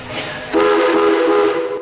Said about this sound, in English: and with a blast of the whistle,